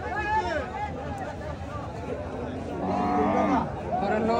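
Cattle low at a busy livestock market, with a long, drawn-out moo rising over the crowd's chatter and talk close by.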